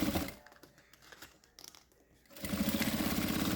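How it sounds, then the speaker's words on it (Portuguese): Sewing machine stitching plastic onto the edge of bias binding, a close buzzing whir that runs, pauses briefly with light crinkling, then starts up again louder. "E aí eu vou fazer uma costurinha aqui, bem na beiradinha."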